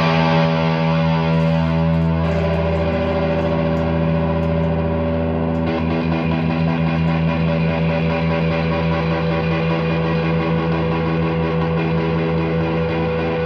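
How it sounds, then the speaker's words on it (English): Gibson Les Paul Studio electric guitar in vintage sunburst, played through an amp on overdrive, giving loud sustained distorted chords and notes that ring steadily throughout with no talking. "I'm going to pop the amp onto overdrive. It's when I think a Les Paul really comes into its own, when there's a bit of distortion on there."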